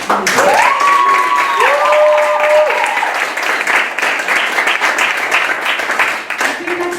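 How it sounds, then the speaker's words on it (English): Loud applause from a seminar audience fills the room, steady clapping mixed with a few raised voices and cheers. "So I would like to invite, to give her a big applause to Majbrit and her House of Sustainability."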